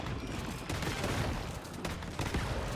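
Rapid gunfire from a shotgun blasting at a boss in the game Once Human, dense overlapping shots filling a short burst of combat noise with no talk.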